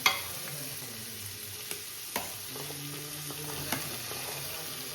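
Potatoes and capsicum are stirred into a frying pav bhaji base of tomato and spice paste, with a steady close sizzle, soft scraping strokes and a few sharper clinks of a spoon against the pan.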